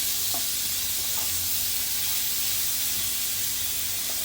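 Onion sautéing in oil in a pan for bitter gourd bhaji, a steady close hissing sizzle with faint stirring clicks, no speech.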